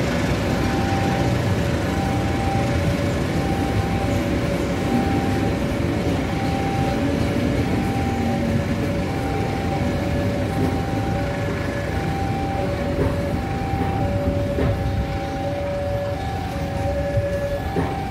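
Cikuray passenger train rolling through a station, a steady loud rumble with repeated tonal squeals or hums running throughout, close and continuous.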